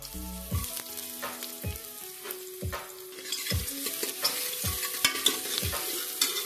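Onion frying in hot oil with browned garlic in a pan for dal palak, sizzling steadily while a spoon scrapes and stirs in repeated sharp strokes close by.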